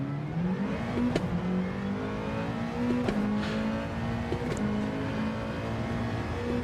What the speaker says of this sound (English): We accelerated too hard on the bump at rumble strips, didn't we?